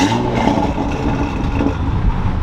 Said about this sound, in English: this is one last startup with the normal catback exhaust.